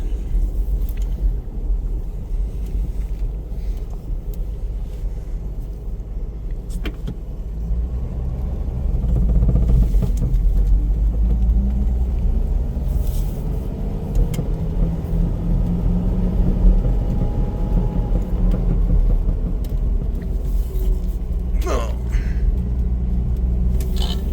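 A 1957 Rambler Custom Sedan, without power steering, pulls away in first gear, its engine rumbling low and steady and growing louder midway as it drives on, close and strong throughout with no voices.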